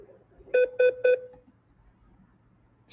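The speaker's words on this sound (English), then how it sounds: "Sorry for the beep." Three short, evenly spaced electronic beeps sound on a phone line while the caller is on hold, clear and tonal, followed by near silence and a brief click at the end.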